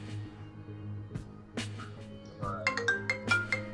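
An incoming call sets off a mobile phone ringtone during a podcast recording, its bright, repeating electronic tones building in the second half over a low room hum and a few thumps.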